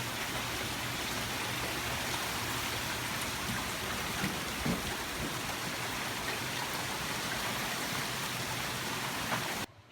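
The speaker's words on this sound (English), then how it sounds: "you can hear the wind and the rain" Steady wind-driven rain from Hurricane Sally pours down outside, a dense, even hiss of heavy rainfall with gusty rushing wind that continues unbroken, then cuts off abruptly at the end.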